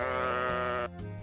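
A single sheep bleats loudly and close, a sustained wavering cry that cuts off abruptly near the end.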